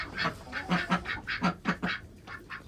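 A group of ducks quacks repeatedly at close range, a rapid, uneven run of nasal calls overlapping one another.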